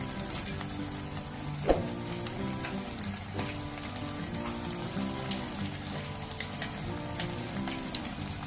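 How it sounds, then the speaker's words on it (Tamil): Onion vadai deep-frying in oil over a low flame, a steady close crackling sizzle with fine bubbling pops, a few sharper spits, and a low musical tone running underneath throughout. "சிம்லே வச்சுட்டு ஃப்ரை பண்ணிக்கோங்க."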